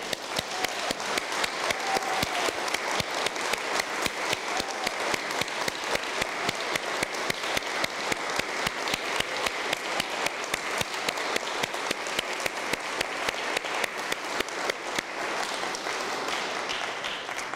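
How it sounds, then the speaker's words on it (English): A church congregation stands and applauds a couple at a Christmas gathering: dense, steady clapping from many hands fills the room for the whole stretch, loud and sustained without a break and with no talk over it. "I would ask everyone if you could stand and give Tom Holden and Joanne Holden a round of applause"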